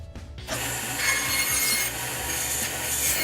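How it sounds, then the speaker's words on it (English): A bandsaw cuts through walnut wood, a steady rasping, hissing cut that starts abruptly and holds at an even, moderate level close by. "using the bandsaw to make all of the cuts"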